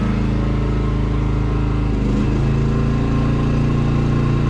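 A Maxpeedingrods 4000W inverter generator drones loudly and steadily at close range, its engine note shifting upward partway through as it idles up under a heat gun load with a fan running.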